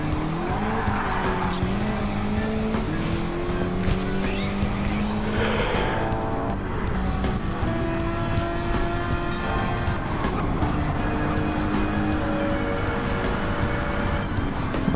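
Race cars in a racing video game, with engines howling and shifting pitch as they accelerate while tires squeal and skid. The mix is loud and dense and continuous for the whole stretch, with no speech.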